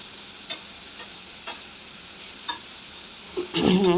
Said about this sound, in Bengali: আর এখন ওই যে সবজিগুলো দিয়ে দিলাম, সবজিগুলো হালকা একটু ভেজে নেব।